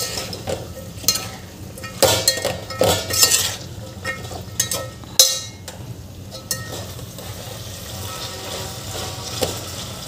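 A spoon stirs basic vegetables together in a metal pot for Maharashtrian masale bhat: repeated close metallic clinks and scrapes in uneven bursts over a low background hum, with no talking.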